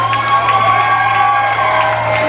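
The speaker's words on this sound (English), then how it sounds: "Cheer it on, ladies and gentlemen." A crowd cheers and whoops at a county fair rough truck event in Harrison County, a steady, loud roar of voices with shouts rising through it and a low engine drone underneath.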